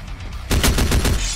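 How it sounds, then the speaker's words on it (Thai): A rapid burst of gunfire in Free Fire strikes a glass-like dome, loud close shots rattling in quick succession after a brief quieter lead-in. "มันสร้างโดมขึ้นมาเป็นเหมือนกระจกแล้วเวลาเรายิงกระสุนไปเนี่ยมันก็เลยกลายเป็นเหมือนเสียงเรายิงกระจก"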